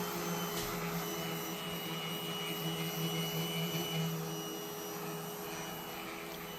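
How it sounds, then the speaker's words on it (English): Sandpaper, starting at 220 grit, works over a wooden dough board with a steady whirring hiss and faint tonal whine that runs unbroken, easing slightly softer toward the end; no one speaks. "After using the template and cutting the shape out, now we're ready to sand."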